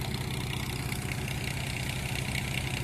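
Tractor engines run steadily while puddling a new field, a low rhythmic diesel chug that stays even and close throughout.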